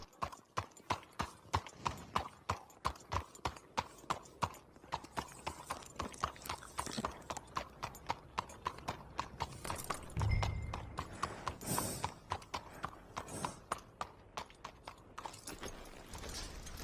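Steady clip-clop of horse hooves at a walking rhythm in Red Dead Redemption 2 Online, continuous and fairly close, with a low rumble and a brief snort midway.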